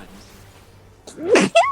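A person sneezes once, a sharp close burst near the end after a quiet stretch, with a brief follow-up sound, during a casual gaming session.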